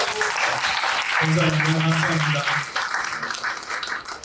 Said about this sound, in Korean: 우리 박수를 한번 축복하고 격려하겠습니다